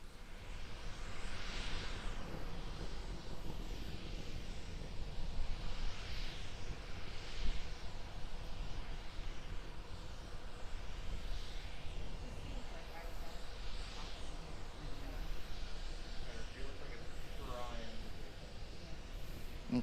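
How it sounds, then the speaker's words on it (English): A single Raptor engine on a SpaceX Starship SN10 in flight gives a faint, steady broadband roar that stays constant throughout, with indistinct voices faintly present underneath. "We're still being powered by the single Raptor engine."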